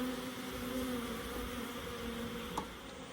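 Honey bees crawl and hum over comb taken from a swarm trap, a steady close buzzing drone that runs continuously with no voices, plus one faint tap near the end.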